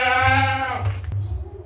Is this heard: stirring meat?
no